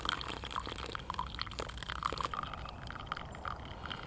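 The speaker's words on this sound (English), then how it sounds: "Now we'll just pour this through until you get as much coffee as you want." Water is poured through coffee grounds in a GSI Ultralight Java Drip, making a quiet, close trickle with scattered small drips and splashes that go on throughout.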